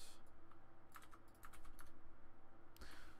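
Quick keystrokes on a computer keyboard come in short irregular bursts and then stop, close and quiet over a low steady hum, with no talking.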